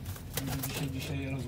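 Young racing pigeons coo in a loft near the end of the racing season, low soft murmuring calls repeating steadily under a constant background hum.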